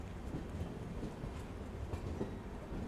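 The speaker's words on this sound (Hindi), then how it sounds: "ट्रेन तो मूव हो ही रही है" A Rapti Sagar Express passenger train runs steadily on the rails, producing a continuous rumble with faint rhythmic clatter from the wheels. The sound is heard from aboard the train, with no voices.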